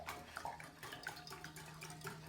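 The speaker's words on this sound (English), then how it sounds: "we're going to add our ice water to get that dough to the right consistency" Ice water pouring into pie dough in a kitchen, a soft, steady trickling splash that runs for a couple of seconds at low volume, with no voices over it.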